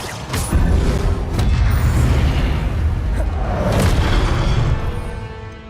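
In the video game Hogwarts Legacy, a Confringo blasting spell lands with loud booming bursts and crashing impacts, several sharp hits within a long rumbling roar that swells and then fades, with a voice faintly present.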